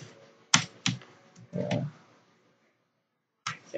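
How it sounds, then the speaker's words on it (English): Several sharp clicks and short bursts of keystrokes on a computer keyboard, quick and close, separated by a quiet gap before a final pair of taps. "I'm gonna type in try not to laugh."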